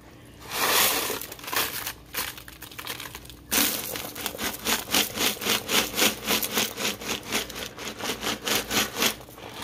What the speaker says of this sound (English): Next, I'm just going to add the soup pouches.